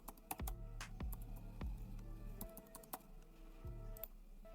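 Keys tapped on a computer keyboard while a password is entered, a quick run of sharp clicks with pauses between small bursts, close and fairly quiet, with no talk.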